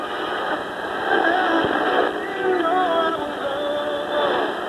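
A small General Electric clock radio plays an FM station over a steady hiss, sounding thin and slightly muffled, with no clear separation and no talking on top.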